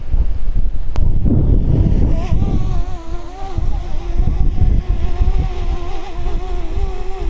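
Steady gusting wind buffets the microphone near a DJI Mini drone hovering in strong wind outdoors, mixed with the drone's thin whining propeller tone, continuous and fairly loud throughout.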